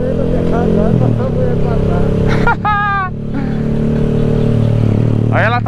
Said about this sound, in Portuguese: Aí ela tá acelerando os motocas lá